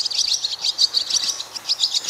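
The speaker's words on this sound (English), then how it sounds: "Swallow." A swallow calls in a rapid run of bright, high twittering chirps, repeated in quick clusters close by and fairly loud, with no other sounds.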